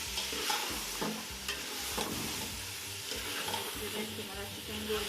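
A spoon stirs ginger garlic paste and four green chillies into chicken frying in oil for biryani, with steady sizzling and irregular scraping strokes close up and no talking.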